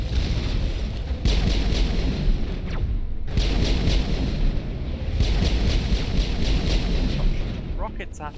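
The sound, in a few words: rocket explosions hitting the player in video game Mass Effect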